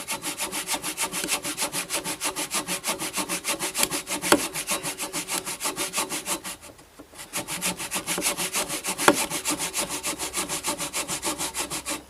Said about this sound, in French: j'enfonce bien ma scie ici pour être sûr de faire une découpe droite